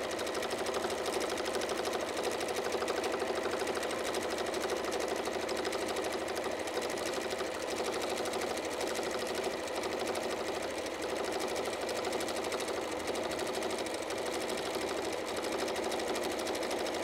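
Sewing machine running steadily during free-motion quilting, a continuous, even mechanical whir and needle chatter at a consistent slow speed, close and alone with no talking.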